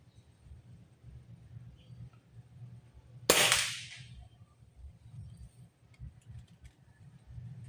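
A single sharp crack from a Nimrod Shorty airgun being fired, close and loud, with a brief fading tail over a quiet low background hum.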